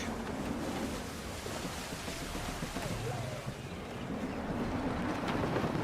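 Gusty wind at sea in Assassin's Creed 3, a steady broadband rush of wind and surf around a sailing ship, constant throughout with slight swells in strength.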